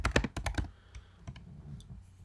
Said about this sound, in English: Typing it again.